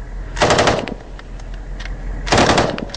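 Loud, close automatic gunfire during a firefight in an Afghan orchard as Marines are ambushed: two rapid machine-gun bursts separated by a few scattered single shots.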